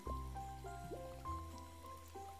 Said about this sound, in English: Doesn't the rain feel nice?